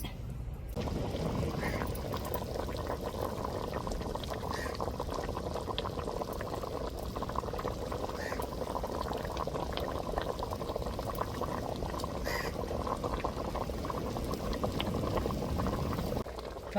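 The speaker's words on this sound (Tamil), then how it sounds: "இப்போ வேகட்டும் மீன் நல்லா குழம்புல" Fish curry with sal fish simmering in a pot gives a steady, continuous bubbling boil that holds at an even level throughout, close and alone with no voices.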